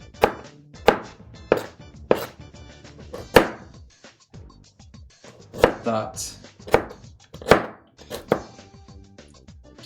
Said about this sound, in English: Just roughly chopping them.